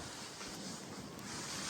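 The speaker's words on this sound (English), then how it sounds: "It is windy," Strong wind buffets the microphone in a continuous roar on a cold morning outdoors, loud and unbroken throughout, with no voices.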